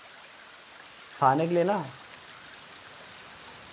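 Steady rain falling in a forest, an even, close hiss of drops running throughout, with someone briefly speaking over it midway.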